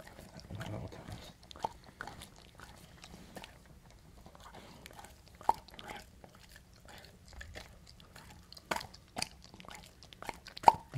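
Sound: dog chewing on something

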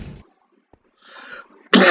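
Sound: stifled sneeze

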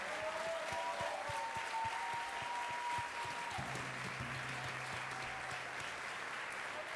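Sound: audience applause at a concert

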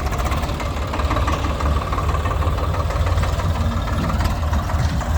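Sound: tractor engine running

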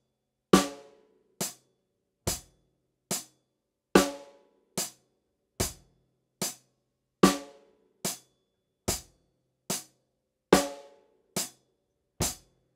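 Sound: slow rock drum beat, kick, snare and hi-hat

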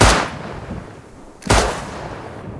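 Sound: gunfire in the video game Rust

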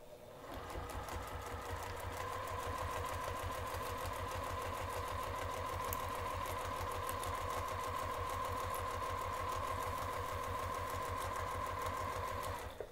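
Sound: sewing machine stitching fabric

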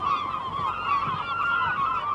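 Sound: seagulls calling above a fishing boat

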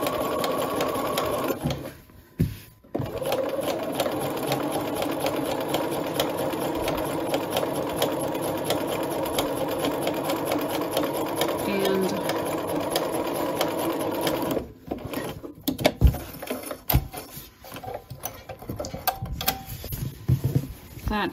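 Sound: sewing machine basting a skirt hem

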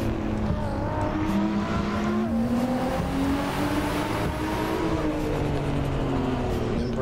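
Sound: race cars on a track in the rain in a racing video game

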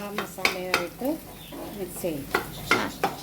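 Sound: egg biryani masala frying and being stirred in a pan

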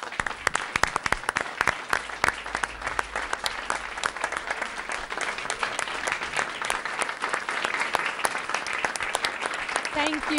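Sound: audience applause at board meeting

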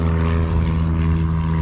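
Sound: loud exhaust of a modified car converted into an El Camino

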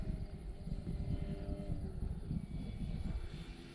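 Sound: SIG Kadet Senior Sport model airplane engine in flight

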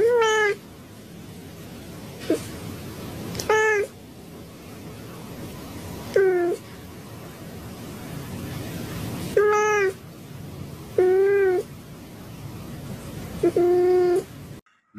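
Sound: cat meowing in jail

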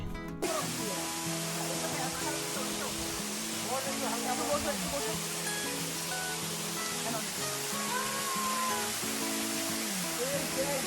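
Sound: mountain waterfall

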